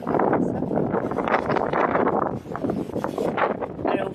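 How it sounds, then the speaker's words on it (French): Strong wind in Torres del Paine, Chile, buffets the microphone with a steady, loud roaring rush that swells and dips slightly throughout, with no other sound standing out. "Alors vous voyez, il y a énormément de vent."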